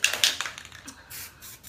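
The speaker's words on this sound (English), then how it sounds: "I'm just doing more like bursts" Short, sharp hissing bursts of spray paint on metal decor, several quick puffs in a row, close and moderately loud, with no talking.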